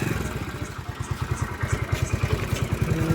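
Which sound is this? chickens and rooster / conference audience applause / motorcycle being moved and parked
motorcycle being moved and parked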